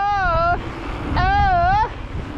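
Strong wind roars and buffets the microphone in the hilltop village of Valogno, a loud, low rumble that runs throughout while someone talks over it.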